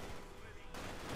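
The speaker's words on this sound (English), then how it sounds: "Machine guns, or submachine guns, blazing wildly." Submachine guns in the Company of Heroes 2 strategy game fire in a dense, loud burst with a sharp change partway through, mixed with battle noise in a brief snippet.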